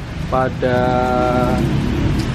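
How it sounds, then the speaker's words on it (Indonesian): Heavy rain pours steadily at Klaten railway station in Indonesia, a dense constant hiss, with a brief tonal horn-like sound rising through it near the start. "Jadi ini kita hunting waktu hujan lebat"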